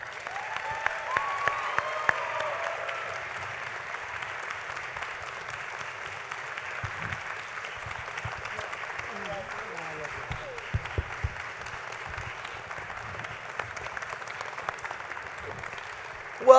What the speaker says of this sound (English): give a giant round of applause to Mr.